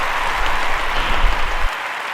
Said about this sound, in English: Cue the music and applause.